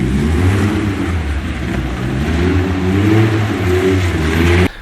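A Reliant Scimitar's engine revs hard and steadily as the car power slides sideways through wet corners around an industrial estate, loud and close with a droning mid-range tone throughout.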